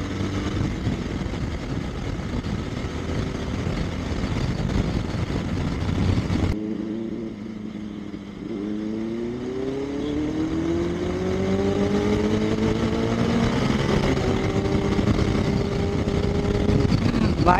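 Benelli 600i and Bajaj Dominar 400 motorcycles roar close by through their exhausts, a loud rumbling pass followed by a rising, revving engine note that climbs and holds, with occasional voices underneath.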